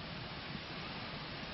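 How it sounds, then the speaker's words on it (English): Heavy rain pours down outside with wind blowing through trees, a dense, steady wash of noise that stays even and continuous throughout with no clear breaks. "And the rain's really coming down, you can hear it outside, trees are blowing."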